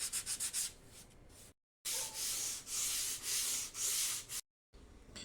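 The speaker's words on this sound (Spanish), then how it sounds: "Con un taquillo de madera y una lija comienzo a lijar todos estos resanes." Sandpaper wrapped on a small wooden block rubs back and forth over wood filler patches in a piece of furniture, rhythmic close scratchy strokes in bursts with short silent gaps.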